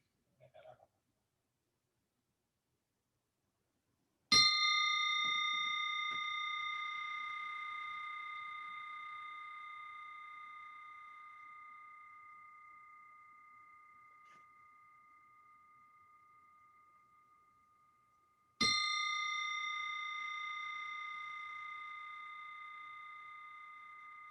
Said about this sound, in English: keep focus to the bell sound.